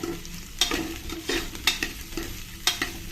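Chopped carrots and beans sizzle in a pan as they are stirred, with a steady frying hiss broken by several sharper scraping strokes of a spatula, close up.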